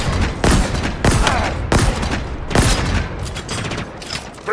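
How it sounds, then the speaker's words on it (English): Gunfire in the Halo Infinite campaign: loud bursts of rapid shots in four or five heavy volleys, each ringing out with booming impacts and mechanical clatter, close and dense. "Incoming fire!"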